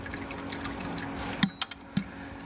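Wort dripping and splashing from a pressed grain bed during a London Pride-style homebrew, with a quiet trickle and several sharp, distinct drips close by.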